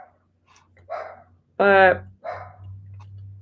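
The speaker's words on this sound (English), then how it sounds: "It's barking at something outside." A dog named Pickles gives one loud, close bark with a short yelp after it, reacting to something outside. Faint low hum and brief speech sit around it.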